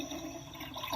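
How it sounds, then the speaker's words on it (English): A toy dollhouse toilet gives a brief, faint electronic flushing whoosh of rushing water, steady for about a second, fairly quiet and close, with no one talking. "And a flushable toilet?"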